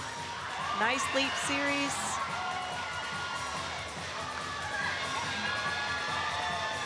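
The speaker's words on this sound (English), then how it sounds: "Nice involvement from the crowd there." Spectators at a college gymnastics meet cheer and shout steadily across a large arena, with children's shrill voices and whoops rising above the crowd while a commentator talks over it.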